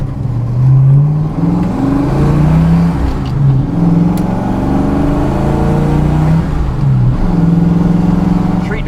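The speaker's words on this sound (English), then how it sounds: "Rev matching on point, y'all notice that?" A 1979 Cobra engine revs hard and close, with a rising and falling note through several rev-matched gear shifts, loud and continuous without talk.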